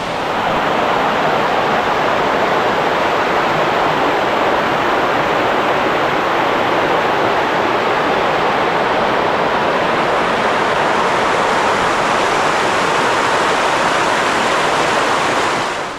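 A waterfall near Ketchikan, Alaska, roars in a constant, loud rush of white water that never changes in level for the whole stretch, with no other sounds.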